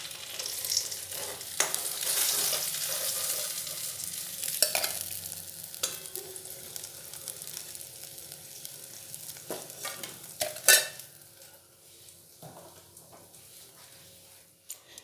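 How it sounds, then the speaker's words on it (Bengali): Fish heads fry in hot oil with a busy, crackling sizzle, broken by sharp clacks and scrapes of stirring, loud and close throughout. "এইভাবে আমি সব মাছগুলি ভেজে নেব।"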